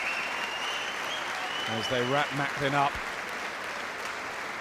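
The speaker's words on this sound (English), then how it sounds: "And the crowd applaud" Boxing crowd applauding at ringside after the Jamie Moore vs Matthew Macklin fight, a steady wash of clapping and crowd noise under a commentator's talk.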